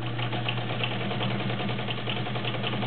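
A vintage Kenmore 1207 heavy-duty sewing machine runs steadily while stitching through five layers of denim, a close, continuous mechanical whir with a fast, even rhythm and no pauses.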